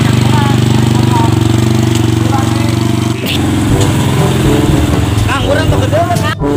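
A motorcycle engine runs loud and close while riding, a steady throbbing drone with a brief dip midway, as people talk over it.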